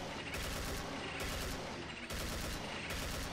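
Kalashnikov gunfire in the game Doom: The Golden Souls, a dense rapid automatic burst that is loud and continuous, with brief breaks between sustained volleys.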